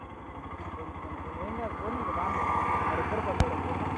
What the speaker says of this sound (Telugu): స్కూటీ మీద వస్తుంది చూడు